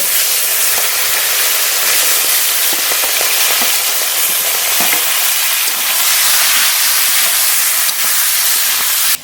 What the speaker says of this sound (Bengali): বাকি মাছগুলো এই তেলের মধ্যে ভেজে নেব